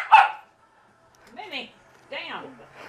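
A dog barks at dogs on a TV: one sharp close bark, a pause, then two more drawn-out barks that bend into whiny yelps, all loud and near in a quiet room.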